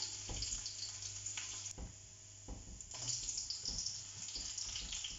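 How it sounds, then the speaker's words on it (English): Garlic sizzling and frying in a hot pan for Filipino bihon noodles, a steady bright crackle with occasional sharper pops and stirring clatter, loud and close with no talking. "I'm going to put the garlic now. The pan is hot enough."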